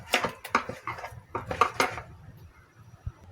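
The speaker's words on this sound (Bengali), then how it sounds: "মাছটা এই ফাঁকে একটু মাখিয়ে নিচ্ছি।" Fish is mixed with spices in a bowl, giving a quick run of close, irregular clinks and wet knocks against the dish before the noise trails off.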